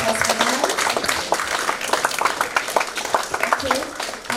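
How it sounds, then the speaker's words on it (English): An audience applauds panel speakers at a tourism and technology symposium, a dense, steady patter of clapping for several seconds with voices mixed in underneath. "Another big round of applause for them."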